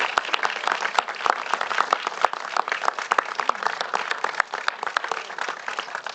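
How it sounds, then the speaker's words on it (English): Audience clapping at a San Francisco press conference condemning antisemitic attacks, a steady, moderately loud patter of many hands sustained for several seconds with no talk over it. "Let's give them all a huge round of applause"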